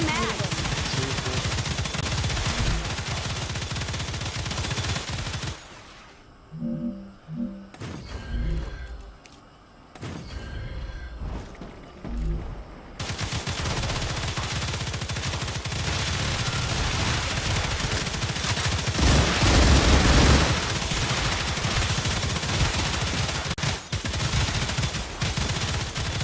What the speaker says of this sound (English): Is that gun working?